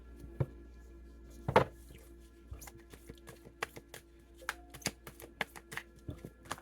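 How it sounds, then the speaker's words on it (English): A very large 300-card deck is shuffled by hand, giving uneven bursts of riffling card taps and soft thuds, close and fairly quiet, with no talk. "There's 300 cards here, you guys. 300 cards here. It's hard to shuffle these."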